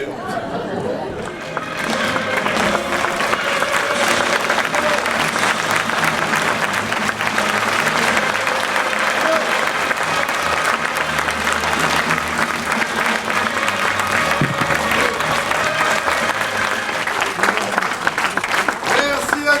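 Audience at a French comedy show about De Gaulle bursts into loud, sustained applause mixed with crowd chatter, a dense continuous roar of clapping that swells after a brief quieter opening and holds steady.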